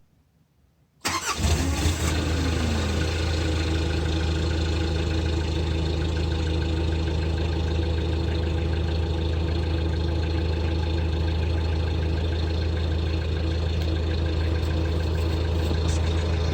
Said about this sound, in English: Vehicle is running.